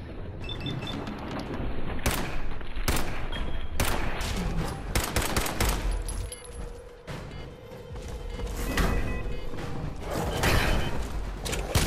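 Rapid bursts of gunfire from a gun in Fallout 4, loud sharp cracks repeating through a busy, noisy game mix with mechanical clatter between shots.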